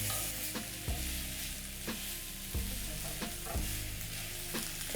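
Chicken gizzards with bell pepper, salt and sesame seeds are stirred as they fry in a pan. A close, constant sizzle is broken by repeated scraping strokes of the spoon, with no talking.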